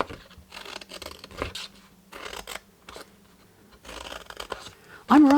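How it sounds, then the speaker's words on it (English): Scissors cut through paper along score lines in short, soft snipping and scraping bursts, separated by pauses and faint handling noise, with a brief vocal sound at the end. "I'm going to cut that away and then cut straight up the other 3 score lines"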